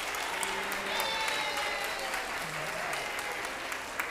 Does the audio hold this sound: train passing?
no